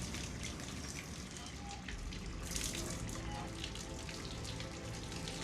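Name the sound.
water running in Hitman 3 video game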